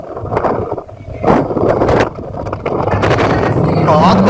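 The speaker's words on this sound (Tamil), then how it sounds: "காத்து பலமா அடிக்குதுங்க." Strong wind buffeting a microphone outdoors at a hilltop rock fort temple, loud rumbling gusts that surge and drop, with a voice talking under the roar.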